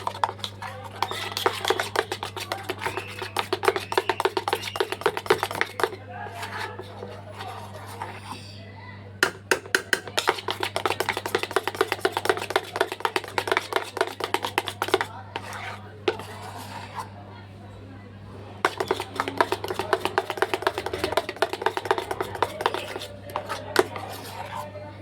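Milk, flour and ghee with a little salt and baking soda beaten smooth in a bowl, a fast, steady run of light tapping and scraping that pauses briefly now and then over a constant low hum.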